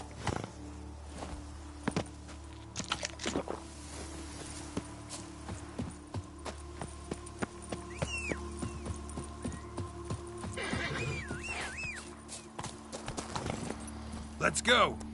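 Roach the horse galloping in The Witcher 3, with quick hoof strikes over a low droning background, occasional sharper impacts and brief voice-like sounds scattered through, growing slightly busier toward the end.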